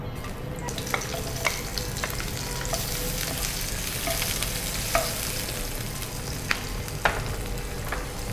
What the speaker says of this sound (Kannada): ನಾನು ಇದಕ್ಕೆ ಈರುಳ್ಳಿಯನ್ನು ಹಾಕ್ತಿದ್ದೇನೆ.